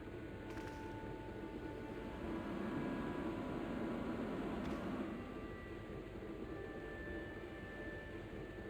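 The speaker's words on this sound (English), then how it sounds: "I used the dryer to speed up the process." A clothes dryer hums steadily in the Broken Sword adventure game, a faint, even mechanical whir with a broad noisy rumble that swells slightly midway and continues alone without any talking.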